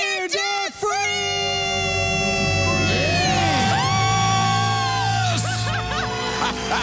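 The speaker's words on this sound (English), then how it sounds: "Let's hear a debt-free scream." A live radio studio crowd gives a debt-free scream, loud shouting and cheering from several voices that starts abruptly and is sustained, with a strong voice leading over the group and excited yells throughout.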